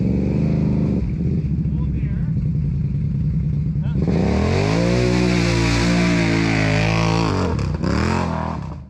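A Can-Am Renegade ATV engine roars at full throttle through mud, loud and close, its pitch climbing sharply as it revs harder midway and wavering with the load, with talk partly under the noise.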